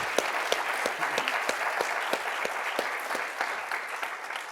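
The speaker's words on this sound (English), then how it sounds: "please join me in a round of applause for the Community Foundation for keeping us straight." Sustained audience applause for the Community Foundation at a human rights economy talk, many hands clapping evenly and fairly close for the whole stretch, with no talk.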